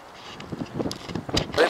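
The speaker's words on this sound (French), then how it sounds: "désolé pour le vent, on va rien entendre" Gusty wind buffeting a microphone outdoors on a rainy metal-detecting outing in Calvados, a rough rumbling roar that swells and dips in uneven puffs over a short stretch.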